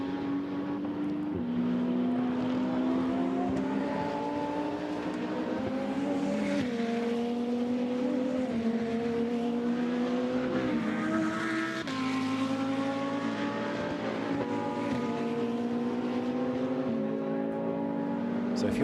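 A GT2-class Audi race car at Monza, its engine a steady loud drone with rising and falling pitch as it runs through the gears, alongside other cars, with a voice talking over the top throughout.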